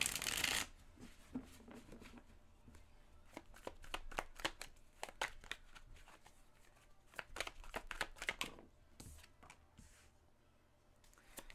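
Tarot cards being shuffled during a card reading: a rapid run of crisp riffling and flicking bursts, close and fairly loud, continuing steadily throughout with no talking.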